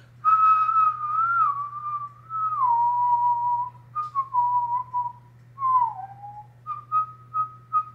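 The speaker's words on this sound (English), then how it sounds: "I can whistle." A person whistles a slow wandering tune alone, a clear, close series of sustained and short notes that drift gently downward and rise again, over a faint low hum.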